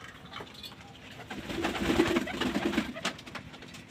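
Pigeons coo softly while drinking water on a rainy-season day, a low murmuring burst of calls swelling midway, close and fairly quiet.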